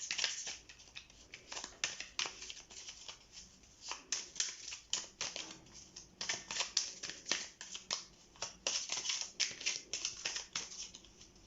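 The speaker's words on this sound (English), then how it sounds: "I'll shuffle the cards and pull one for you to get an answer." Tarot cards being shuffled by hand, a faint, close series of papery riffles and slaps in uneven bursts that repeat throughout with no talk.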